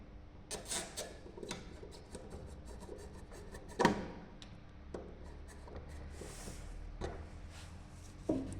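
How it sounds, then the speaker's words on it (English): A screwdriver tightens a screw on a numerical overcurrent and earth fault relay, giving close, faint scratchy turning and a few small ticks against a quiet steady hum. "tight the screw with the help of screwdriver"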